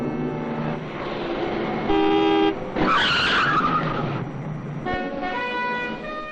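A high-powered automobile in Kuwait, 1961, driving past with a loud engine and tyre noise, a brief horn-like tone, and a harsher surge in the middle of the passage.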